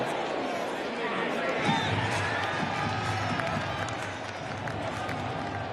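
A baseball stadium crowd at an ALCS playoff game, Astros at Red Sox, cheers and chatters in a broad continuous roar during a 2-2 count, distant and steady under a play-by-play voice.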